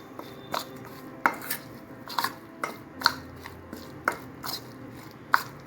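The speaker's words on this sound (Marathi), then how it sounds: "आणि हे आता असं मिक्स करून घ्यायचं।" Oats egg chilla batter with red chilli powder is mixed in a bowl, with sharp, regular clinks and taps of a utensil against the dish roughly twice a second over a quiet background.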